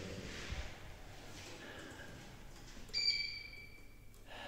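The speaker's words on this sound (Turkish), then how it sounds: "Çok kısık ötüyorlar ama gene de güzel kuşlar." Canaries in a spacious, sunny school club room give a few faint, brief high chirps against quiet room tone, with soft talk in the background.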